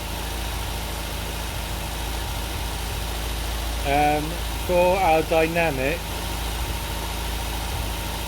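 An MGB GT's 883 engine idles steadily at a low, even rumble throughout, with someone briefly speaking over it midway.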